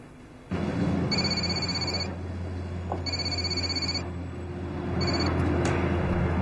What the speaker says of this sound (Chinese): 您办公室电话一直在响。